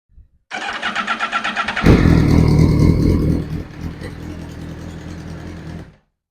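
A self-built Honda CBR1000RR race bike engine cranks with a rapid pulsing starter whir, then catches and roars loudly into a fast idle that settles and fades out, with no talk over it.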